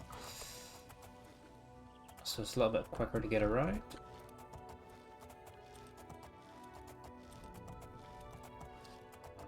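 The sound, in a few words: horse hooves clip-clopping in video game Oblivion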